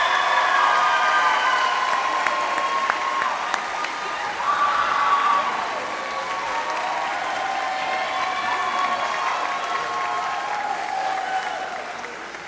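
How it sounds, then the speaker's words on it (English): A graduating class rises at a school graduation ceremony and applauds friends, family and staff, a broad sustained wave of clapping through a large hall, with some crowd noise and a few cheers mixed in. "Will the Class of 2025 please rise and give a round of applause to your friends,"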